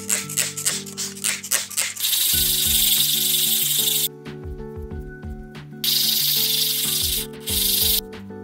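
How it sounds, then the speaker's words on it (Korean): Steady, harsh rubbing of sandpaper on the back of a hard resin piece in long strokes, close and loud, with tapping at the start and musical tones underneath. "이제 뒷면 사포질 해줄게요."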